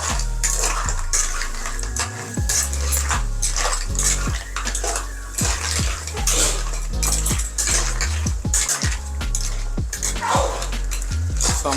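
Live crab curry is stirred in a pot, a spoon scraping and clanking repeatedly against the metal in a busy, uneven rhythm close up, with a short break near two seconds.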